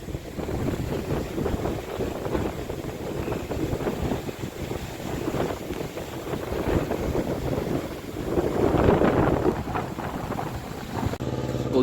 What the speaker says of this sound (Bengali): আর ঝোড়ো হাওয়া হচ্ছে।